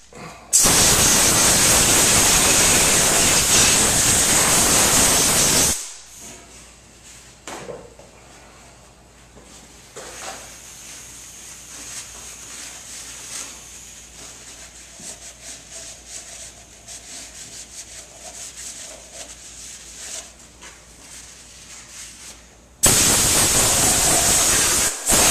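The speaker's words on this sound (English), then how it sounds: "I'm gonna grab my air hose real fast." Compressed air from an air hose blasting over a deck surface: a loud, harsh hiss for about five seconds, quieter handling noises, then the blast returns near the end.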